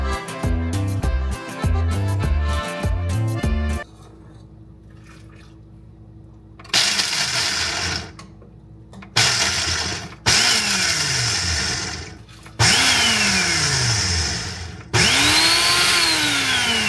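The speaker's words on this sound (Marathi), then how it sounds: "आपण जाऊया आणि काजू बदाम आणि पिस्ताची पावडर बनवूया." An electric grinder powdering cashews, almonds and pistachios, running in several loud whirring bursts with short pauses between them and motor pitch sliding as it spins up and down, after an opening stretch of music.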